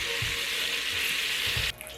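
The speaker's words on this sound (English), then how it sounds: "I'm going to repeat and brown all of the oxtails" Oxtails brown in a hot pan, giving a loud, steady sizzle with a few low thumps as pieces shift, before the frying noise cuts down near the end.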